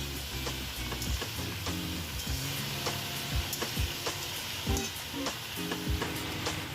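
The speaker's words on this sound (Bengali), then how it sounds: "আমি কিন্তু গ্যাসের আঁচটা মিডিয়ামে রেখে সবজিগুলোকে ভেজে নিচ্ছি হালকা করে" Mixed vegetables frying lightly in a pan over a medium gas flame, with a steady soft sizzle and repeated scraping and clinking of a spatula stirring throughout.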